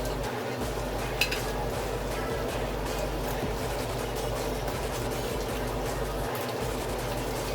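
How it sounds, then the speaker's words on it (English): Fish cooking in brown stew gravy in a home kitchen pot, a steady close sizzle and bubbling with faint stirring, continuous and even throughout, with no voices. "I'm gonna put my fishes inside, let it cook"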